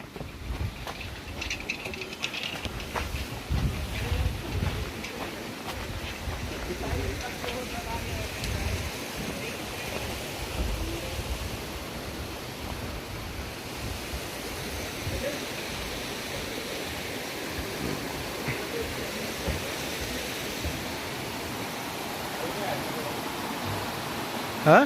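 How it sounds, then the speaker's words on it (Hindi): Tiger Falls near Lakhamandal roars as a steady broadband rush of falling water, close and continuous, with faint voices in the background. "ये देखिए टाइगर फॉल।"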